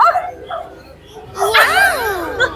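A dog at a pet market gives high, wavering whimpers and yelps, short cries at first then a louder run of rising and falling whines, close and clear with background murmur.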